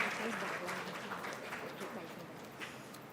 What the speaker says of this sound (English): Can we have a huge applaud, guys?